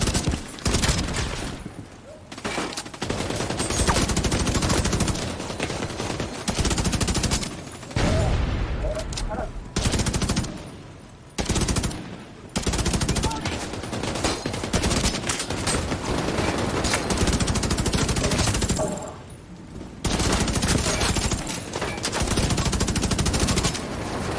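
Sustained automatic gunfire in a firefight in The Division 2, loud and close, with dense bursts of rapid shots broken by a few short pauses and occasional heavier booms, with voices talking over the shooting at times.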